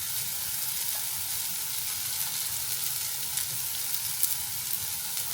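Radish sautéing in sesame oil in a pan, a steady, close hiss of frying with occasional faint crackles and stirring sounds, continuing evenly with no talking.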